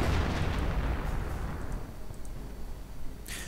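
Howitzer artillery firing in a WWII strategy game, heard as a dense, loud rumbling barrage of booms and blasts that fills the whole stretch with no voices.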